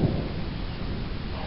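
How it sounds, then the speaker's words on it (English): Steady rain falls during a thunderstorm in the Lehigh Valley, a dense continuous hiss with low rumbling underneath, loud and close with no pauses. "I hear rain. That or it's hail. Because it's tinging."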